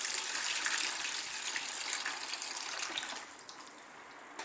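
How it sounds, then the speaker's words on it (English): Glue water from a sawdust and paper mix pours out into a bucket, a loud continuous gushing stream that tapers off toward the end, with no voices. "So I'm just going to pour some out"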